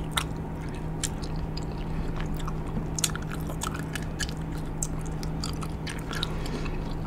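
Someone chews bubble gum close up with steady wet, squishy smacking and clicks over a low constant background hum. No one speaks.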